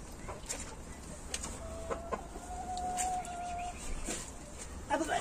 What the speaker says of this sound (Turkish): Tavuklarımız burada.